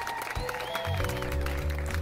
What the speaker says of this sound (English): one more round of applause to Blueberry, Lifering, Goo, Cabby, and Tico